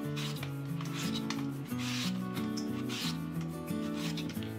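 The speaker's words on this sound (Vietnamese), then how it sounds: "mình sẽ lấy cái bằng bào này, mình sẽ quay đầu lại rồi mình sẽ bào sợi nha các bạn" Green mango being shredded on a hand grater for a spicy snail-and-mango salad: a steady, continuous rasping scrape that runs throughout, with background music playing underneath.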